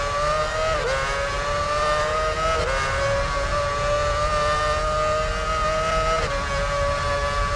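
A Formula One car from Formula One Championship Edition, driving for Honda at the Canadian circuit in the PS3 game, screams at high revs. Its loud whining engine note holds steady with brief dips at gear shifts.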